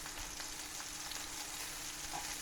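Bacon meatballs sizzle steadily in a hot pan, a constant crackling fry with no talking.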